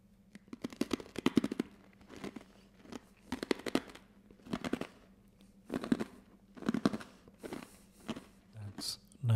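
Close, crisp crunching bites and chewing of crunchy mushroom and cream bruschetta come in repeated bursts, each crunch loud against a quiet background, with a brief pause between mouthfuls.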